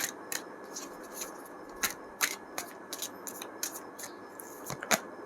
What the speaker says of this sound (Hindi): कार्ड्स अच्छे से शफल करते हैं।